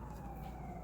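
An emergency siren sounds outdoors on the streets of New York. It holds a faint, steady wail over low city rumble.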